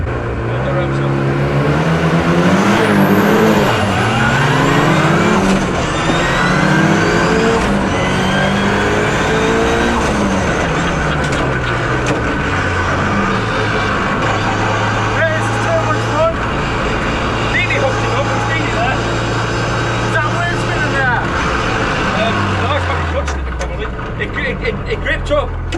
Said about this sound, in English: we're going to try stand and start